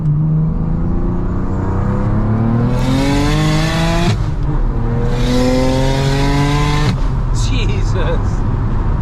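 A 660 hp single-turbo BMW 335i revs hard through rising gears, each climb cut by a quick shift, loud and close with a whooshing turbo hiss.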